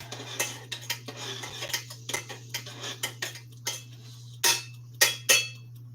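Hot spiced cider being stirred in a pot, a series of distinct metallic utensil scrapes and clinks against the pot over a steady low hum, getting louder toward the end.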